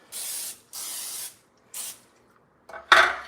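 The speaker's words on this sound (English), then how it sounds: "you're gonna wanna make sure you spray them down really well so that they don't get stuck in there" Cooking spray hisses onto mini loaf pans in three short bursts, each about half a second, close and crisp, followed by a louder clattering knock as a pan is handled.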